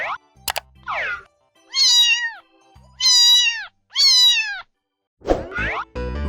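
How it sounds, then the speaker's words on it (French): A cat meows several times, drawn-out rising and falling calls spaced about a second apart, loud and close, with a few short thumps and plops in between. "Écoutons le son du chat."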